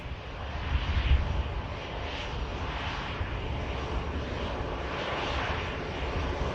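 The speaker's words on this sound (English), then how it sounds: "EasyJet just arriving." An easyJet airliner arriving at Manchester Airport, its engines a steady, loud broadband roar that holds without a break throughout, with no talk over it.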